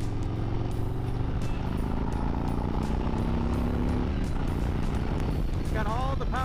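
An M8 motorcycle engine drones steadily and loudly while the bike is ridden, with a rumbling tone and wind noise, and a voice speaks over it.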